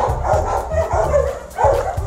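Several dogs at an animal shelter bark and yip in short repeated bursts, fairly close and loud, with faint voices in the background.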